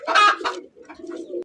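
Pigeons at a pigeon farm coo close by in soft, throaty bursts, a louder call followed by a few quieter, rolling coos.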